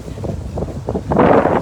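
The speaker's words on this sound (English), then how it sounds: "Woo! Windy." Gusty wind buffets a microphone outdoors in low rumbling bursts, swelling into a louder, steadier roar near the end, with no speech.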